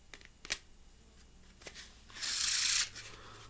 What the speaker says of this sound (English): I do the one-handed shuffle.